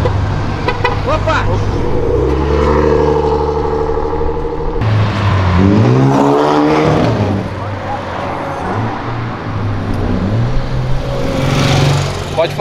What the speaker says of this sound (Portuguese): você achava que era a Mercedes que estava com esse ronco